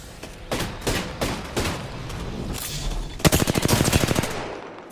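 Gunfire in the shooter game Apex Legends: several single shots spaced apart, then a fast rapid-fire burst of automatic weapon fire toward the end, loud and close.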